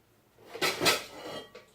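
Metal pans and dishes clatter and clink as they are handled, a short close burst of knocks and scrapes with no talking.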